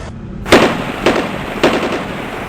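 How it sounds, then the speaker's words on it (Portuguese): Three sharp gunshots fired by a sentry at a runaway pickup truck trying to break into an army barracks, spaced about half a second apart over a steady background hiss, each with a short reverberant tail. "Um tiro é disparado por um sentinela contra uma caminhonete."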